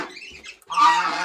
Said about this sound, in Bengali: এগুলো আমার সব রাজহাঁস